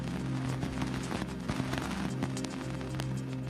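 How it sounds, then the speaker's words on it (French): Dust grains striking the antenna of the Cassini spacecraft near Saturn's F ring, converted to audio: a dense, continuous crackling wash with scattered sharper pops over a steady low hum, alone and fairly loud throughout. "Voici le bruit des poussières heurtant l'antenne de l'engin"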